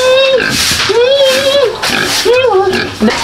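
Pigs on a backyard farm grunting and squealing close by, several repeated tonal grunts in succession, with people talking in the background.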